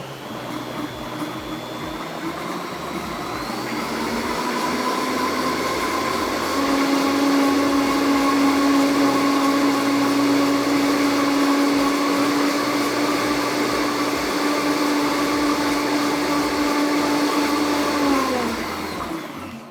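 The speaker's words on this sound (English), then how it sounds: "we're gonna add the last ingredient, which is our lemon juice, and then get that nice and blended up" Blender whirs through mayonnaise after lemon juice is added, a loud, steady motor hum that rises in pitch as it spins up, holds for over ten seconds, then winds down, with no talk.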